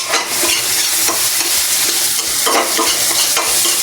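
Aromatics being sautéed in a small frying pan give a loud, steady sizzle, with frequent scraping and stirring noises throughout.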